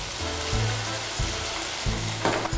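Ground masala paste for Chettinad mutton roast hits a hot pan and sizzles loudly, with repeated bursts of frying crackle as it is stirred in, close and alone without talk.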